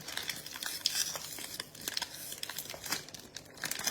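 A trading card pack ripped open during a card break, a quiet run of crinkling foil and short tearing bursts, close and soft with no talk.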